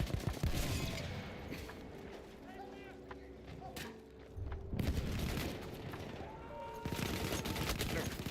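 Machine gun fire crackles in bursts during a Battlefield 1 multiplayer match, with repeated rapid volleys and booms layered beneath ongoing talk.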